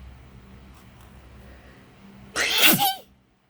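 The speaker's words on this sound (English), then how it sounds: "that was a weird sneeze" One sudden, loud human sneeze bursting out after a quiet room tone, short and sharp with a breathy tail.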